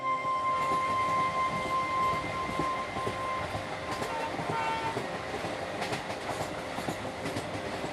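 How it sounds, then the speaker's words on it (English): A luxury train rumbles steadily along the rails in India with rhythmic clicking and clattering, a continuous rolling noise with a faint tonal whine. "The train continues its journey"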